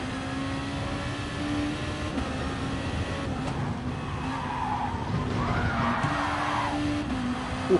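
Race car tires squeal and skid through an oversteer moment, a sustained screech over steady engine noise, rising briefly in the middle.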